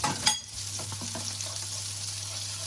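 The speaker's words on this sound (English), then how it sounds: "I've just put a nice knob of butter in there, just to glaze the fish nicely" Mullet fillets fry in a knob of butter in a pan, a steady close sizzle with a brief clatter of a utensil at the start, then a low hum beneath the crackle.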